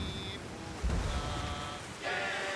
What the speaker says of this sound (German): Ist das, weil das Schiff die Welle runtergeht?